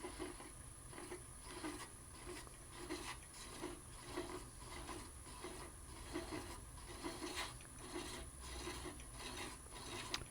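A hand-held threading tool cuts threads into spinning wood on a wood lathe, giving a steady rasping, scraping grind with a rhythmic pulse from each turn, close and fairly quiet throughout with no talk.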